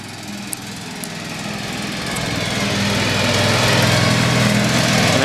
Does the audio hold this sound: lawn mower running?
yes